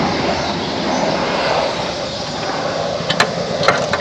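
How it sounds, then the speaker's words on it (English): A big twin-rotor military helicopter passes overhead as a steady, loud broadband roar and rumble that stays constant throughout, with a few sharp clicks near the end. "one of those big double propped military helicopters"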